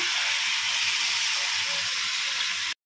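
Ground masala paste sizzling as it is added to chicken in a hot pan, a steady loud hiss that holds unbroken and then cuts off abruptly.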